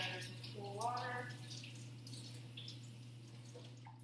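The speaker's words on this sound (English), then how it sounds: "Make sure you're running under some cool water." A potato is rinsed under cool running tap water in a kitchen sink: a steady, fairly faint trickle and splash runs throughout, with a voice talking briefly over it.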